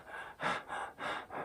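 A person demonstrates short, quick panting breaths, like a winded dog: four rapid, sharp inhalations in a steady rhythm, close and fairly quiet, with no talking.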